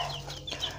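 Young chicks in a coop cluck and cheep in soft, overlapping calls close by, with a steady low hum behind them.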